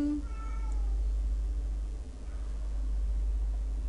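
A single short meow from a house cat sounds early on, moderately close over a constant low background hum, followed by quiet room tone.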